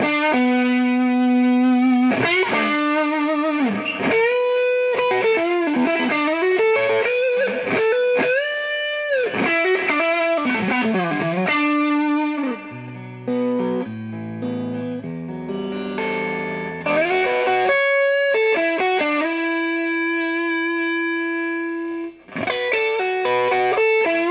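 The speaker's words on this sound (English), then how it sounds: "now I can crank the power amp here and overdrive it" An electric guitar plays melodic phrases and bends through a BluGuitar AMP1 with its power amp cranked into crunchy overdrive on the clean channel, notes sustaining with warm distortion and no talking.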